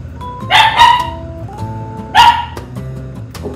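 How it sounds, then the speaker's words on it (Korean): A small dog barks indoors during a bath, with one short burst of sharp barks, a pause, and then a second brief bark, all close and loud. "오빠 나 짖는다."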